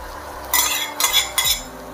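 Breadcrumbs are stirred into cream with a spoon for a stuffed-tomato filling, giving three short, close scraping strokes against the bowl with brief pauses between them.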